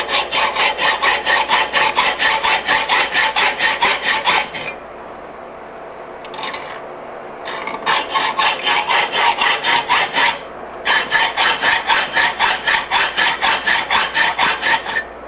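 Hand sawing a slot into a bicycle frame tube clamped in a vise for lugged framebuilding: steady, rhythmic rasping strokes in three long bursts separated by brief pauses, close and loud with no talk.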